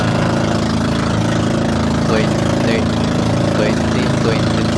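A steady boat engine drones loudly and continuously throughout on the sea off Lobo, Batangas, Philippines, with faint voices mixed in underneath.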